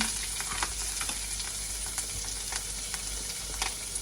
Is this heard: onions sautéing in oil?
yes